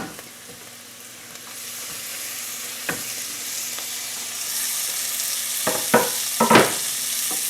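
Garlic and ginger fry with vegetables in a hot pan for a potato and pea curry, the sizzle swelling louder partway through, with a few sharp utensil knocks and scrapes toward the end.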